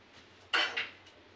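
A metal sieve is set down on top of a metal vessel, a single bright clink with a short ringing tail and a softer second tap, close and alone in a quiet room.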